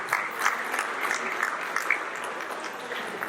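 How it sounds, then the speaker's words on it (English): Audience at a township candidate roundtable applauding for the district candidates, a steady mid-level patter of many hands clapping that runs continuously without talk. "I want everyone to give a round of applause to our candidates"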